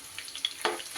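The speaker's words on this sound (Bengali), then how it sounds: "ওই একই রকমভাবে মাঝারি আঁচে ভেজে নেব" Chicken pakora frying in oil on medium heat gives a soft, faint crackle of scattered pops and light sizzling, brief and quiet.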